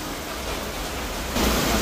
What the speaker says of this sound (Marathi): जसाच दरवाजा उघडला पाऊस समोर भेटला.